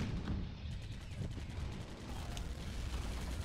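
Tank cannon fire from a T-70 with a 125mm gun in a combat video game, heard as dense, continuous booming and rumbling gunfire with a steady roar underneath.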